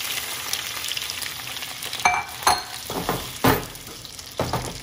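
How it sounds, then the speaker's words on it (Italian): Cherry tomatoes hit hot oil, the pan giving a busy sizzle with several sharp louder bursts of spatter as more tomatoes drop in, no talking. "L'olio è bello caldo, aggiungo i pomodori."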